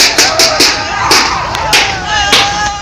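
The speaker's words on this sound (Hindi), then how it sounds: "लोग शोर मचाते हुए इस शेरनी के पीछे झुंड में भागते दिखाई दे रहे हैं" A crowd of villagers in India chases a tigress, yelling and shouting in loud, close bursts that rise and fall over a few seconds.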